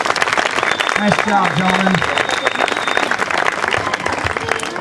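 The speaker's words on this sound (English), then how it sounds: "let's give all of the contestants one more round of applause" An audience at a pageant contest applauds the contestants with steady, dense clapping throughout. A voice speaks briefly over it near the start.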